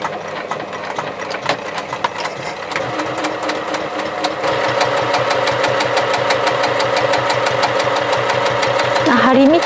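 A sewing machine stitches a bag made from a mourning kimono obi, rapid even needle clatter close by that speeds up and steadies halfway through, then ends with a brief whine, a voice talking under it at first.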